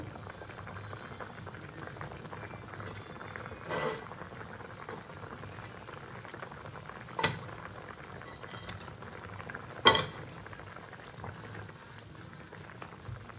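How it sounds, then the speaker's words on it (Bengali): Magur catfish pieces go into a simmering curry of plantain and potato: a soft, steady bubbling underneath, broken by three brief splashy plops spaced a few seconds apart. "আমি এবার এখানে মাছগুলো সব দিয়ে দেবো।"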